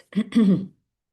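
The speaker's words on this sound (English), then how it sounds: "So if I have to keep clearing my throat, I'm sorry about that." A single throat clearing, two quick rasping pushes, close and fairly loud, followed by silence.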